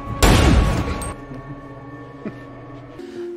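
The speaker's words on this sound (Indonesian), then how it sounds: "Tapi tidak ada toleransi sedikit pun dan Sally pun langsung ditembak." A single loud gunshot in a thriller film about a killing, a sharp blast that rings out and decays over about a second into a low hum and faint background sounds.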